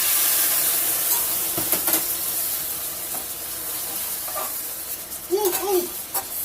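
Balsamic vinegar sizzles and hisses loudly in a hot pan where chicken has been cooking, with a few scraping strokes across the pan bottom and a short voice in the background near the end.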